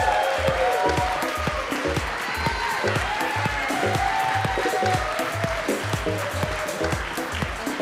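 An audience at an international student festival applauds the MCs, a full round of clapping with some cheering mixed in, loud and sustained while a tonal background sound runs underneath.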